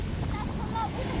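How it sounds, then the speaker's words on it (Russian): Rough sea surf churns on a beach in Turkey, a steady close rush of breaking waves mixed with wind buffeting the microphone, with no clear voices. "Но море начинает немножечко бушевать."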